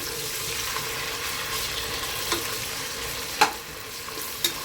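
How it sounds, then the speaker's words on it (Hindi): Ginger garlic paste frying in a pan for matar pulao, a steady close sizzle with light stirring and a couple of sharp utensil taps, no talking. "भूनेंगे ताकि अदरक लहसुन का कच्चापन दूर हो जाए"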